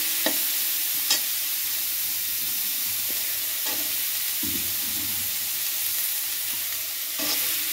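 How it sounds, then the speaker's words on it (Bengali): Beans, carrot and potato stir-fry in a pan for vegetarian chow mein, with a continuous loud sizzle and occasional scrape and knock of the spatula. "এগুলোকে ভালোভাবে ভেজে নেবো"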